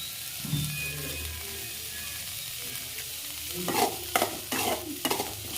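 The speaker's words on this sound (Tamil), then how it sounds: "அடுத்து மஞ்சள் தூள் போட்டு வணக்கி விட்டுக்கோங்க" Boiled Avarakottai beans are stirred with turmeric powder in a pan, with a soft sizzle under quiet stirring and then several louder scrapes of a spoon against the pan near the end.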